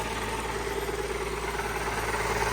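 An Allis Chalmers 190XT tractor engine with a leaking fifth injector runs steadily nearby, a loud, even diesel rumble with a faint rhythmic knock and no speech.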